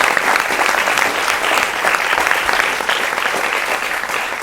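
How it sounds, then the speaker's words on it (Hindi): A studio audience gives a Major General a loud welcome on a televised Indian defence discussion, with thick, continuous clapping sustained evenly throughout. "जोरदार तालियों के साथ स्वागत करें"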